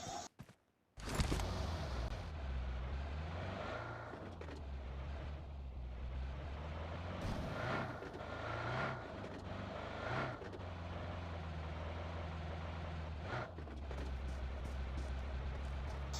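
A vehicle in the BGMI battle royale game drives steadily with a constant engine drone and rumble, interrupted by a few sharp bumps and impacts, with no talk over it.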